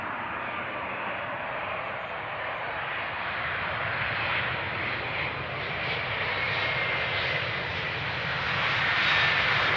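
An airplane arriving on runway 18R at Amsterdam Schiphol Airport, a broad continuous engine roar that swells gradually louder over ten seconds, with no voices.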